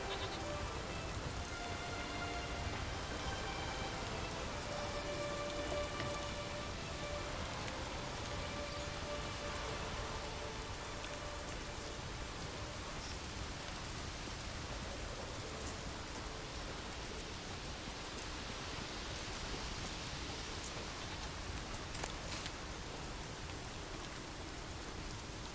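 Steady rain falls in the video game The Witcher 3, a continuous soft hiss with faint tonal game sounds early on and some sharper drips later, no voices.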